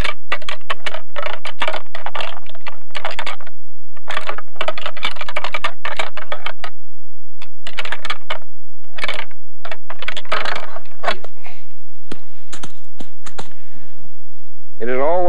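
Two whitetail deer antlers rattled together to imitate two bucks fighting, giving loud, close bursts of clicking and grinding with brief pauses between clashes.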